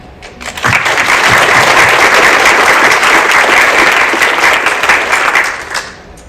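Audience applause at a Rhode Island Attorney General's 2024 hate crime summit swells quickly into loud, dense clapping, holds for several seconds, then fades out.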